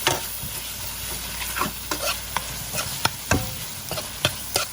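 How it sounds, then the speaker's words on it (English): Beans fry with spices in a pot, sizzling steadily as a spoon stirs and scrapes with sharp, irregular clacks, close and alone without talk. "I'm adding the épices to the beans now, so it could fry with the épices"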